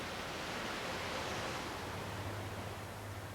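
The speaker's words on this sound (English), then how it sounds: "Then automatically, clean water and air are forced in from the bottom, and this cleans the particles of sand." Water and air surge up through a sand filter tank during backwashing, a dense continuous rushing hiss with a low hum settling in toward the end.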